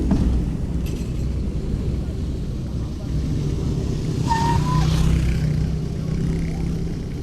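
A car brakes hard on a freshly asphalted city overpass, a brief high squeal rising out of the steady wash of passing traffic, with faint voices mixed into the road noise.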